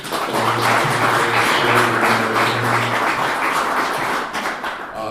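Audience applause for the CMCA All-Stars at the Connecticut Minority Coaches Association breakfast awards event, a sustained, loud, dense clapping that fills the room for about five seconds before tapering slightly at the end.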